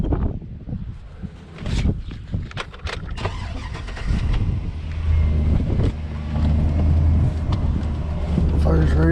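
A Chevy truck with a Vortec engine turns over and fires up, the idle settling into a steady low rumble with wind buffeting the microphone, while people talk over it nearby.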